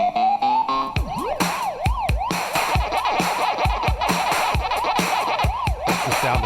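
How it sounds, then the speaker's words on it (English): Pac-Man arcade video game sounds: a short rising electronic tone, then loud, steady, repeating warbling bleeps in arched sweeps over a driving, punchy beat, with no talking. "That's the sound of Pac-Man."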